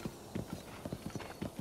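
Hooves clip-clop in a quick, even rhythm as a horse trots in The Legend of Zelda: Breath of the Wild, a steady patter of soft thuds heard fairly close against a faint background hum.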